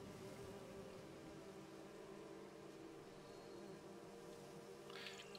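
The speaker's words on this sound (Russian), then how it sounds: "На вас напал пчелиный рой." Bee swarm attacking in the video game The Witcher 3, a continuous low insect buzzing hum with a faint brief rustle near the end.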